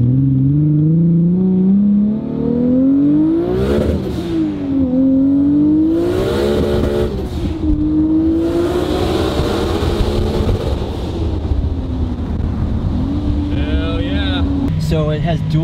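A turbocharged Lexus IS300 making about 1,000 horsepower, with a Garrett GTX 4202 R turbo and dual blow-off valves, revs hard and rises in pitch, drops, then climbs again several times, loud and close, with turbo whine and hiss over the roar.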